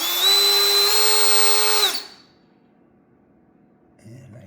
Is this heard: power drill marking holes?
yes